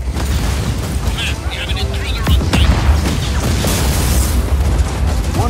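In the video game Just Cause 4, a wind cannon is destroyed with deep, booming explosion rumbles and bursts over constant roaring wind, with a voice talking over the noise.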